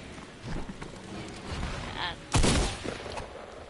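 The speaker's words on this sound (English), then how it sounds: "I didn't mean to shoot, bro." Gunfire crackles in a shooter video game, a short burst of rapid shots near the middle of the clip, heard under steady game ambience while a player talks over it.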